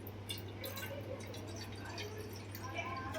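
Water poured into a pan for Maggi noodles, a faint, thin trickle and drip over a low steady hum.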